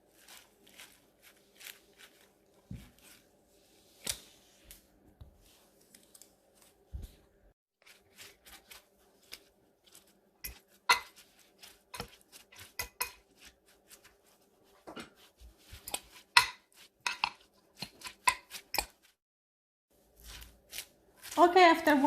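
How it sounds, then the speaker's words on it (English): Pickled cabbage and its ingredients are stirred and tossed with tongs or a fork, giving sparse soft scrapes and clicks that grow busier and denser toward the end, close but faint. "I'm just gonna start mixing everything"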